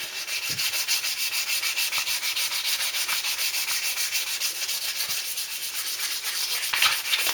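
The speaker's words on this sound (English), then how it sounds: "is just sanding down metal" Steady, continuous abrasive rubbing of sanding on metal of a Triumph being stripped for paint, a harsh hiss that keeps going with a regular back-and-forth pulse throughout.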